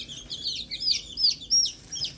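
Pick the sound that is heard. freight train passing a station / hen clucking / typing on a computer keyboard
hen clucking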